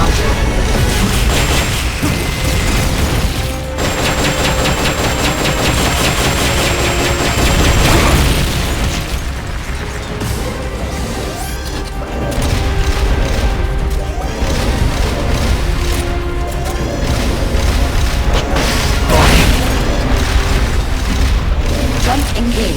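Rocket launcher fire in Metal Gear Solid: Peace Walker, loud booming blasts and crashing impacts layered over mechanical whirring and game music, with a synthetic voice speaking over the din.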